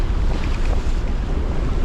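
Strong gusting wind at sea aboard a sailboat beating to weather in a near gale, a loud continuous roar with heavy low rumble and no talk.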